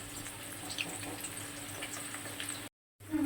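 Potatoes frying in a pan, a steady close crackling sizzle that runs evenly, cuts out abruptly for a moment near the end, then resumes.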